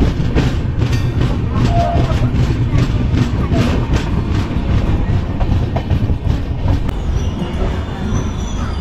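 Mandovi Express running along the Konkan Railway, heard from on board as a steady loud rumble and rattle of wheels on track with faint squeals, continuous throughout with no voices standing out.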